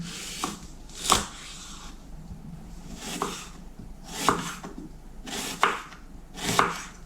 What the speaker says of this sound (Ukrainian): Одну велику цибулю потрібно нарізати напівкільцями.